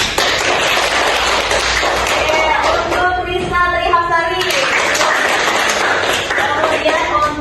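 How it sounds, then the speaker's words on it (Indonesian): Applause in a classroom for the first-place quiz winner, a steady wash of many hands clapping close by, with a voice briefly heard partway through. "kita berikan aplaus untuk juara pertama Wulan"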